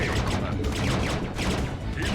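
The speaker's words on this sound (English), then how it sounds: "I just shoot it a bunch." Rapid bursts of gunfire from the StarCraft: Remastered video game, a dense, continuous volley of shots filling the whole stretch with steady loudness.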